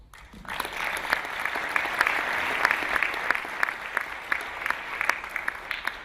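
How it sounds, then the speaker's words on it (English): Conference plenary audience breaks into applause, starting abruptly and building to a full, even roar of clapping from a large hall, with sharper individual claps standing out and slowly thinning near the end. "the GEPF board really deserves a round of applause"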